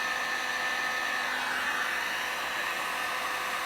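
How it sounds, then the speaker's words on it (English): A heat gun blowing steadily onto a solder seal wire connector as its solder band melts, a constant close whooshing roar like a hair dryer with no voices. "keep your heat on the solder band until you see it melt around the wires like it's doing right now"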